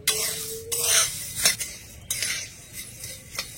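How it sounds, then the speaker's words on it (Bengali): A spatula clinks and scrapes against a pan while softened puffed rice is dry roasted, giving a few sharp metallic taps and rustles over a quiet background. "এবারে আমি শুকনো খোলা একটু ভেজে নেব যাতে করে মুড়িগুলো আগের মতন আবার কড়া কড়া হয়ে যায়"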